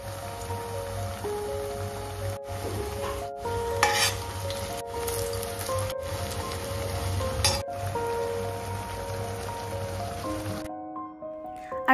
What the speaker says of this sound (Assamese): বোথ সাইডে অকণমান ৰঙচুৱা হোৱাকৈ ভাজি ল'ম আৰু গেছটো একেবাৰে ল' ফ্লেমত ৰাখি পিনে ভাজিছোঁ